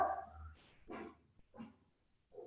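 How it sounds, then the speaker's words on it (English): Dogs bark indoors during a yoga session: three short, faint bursts of barking spaced about half a second apart over a quiet room. "So helpful with my barking dogs to be relaxed."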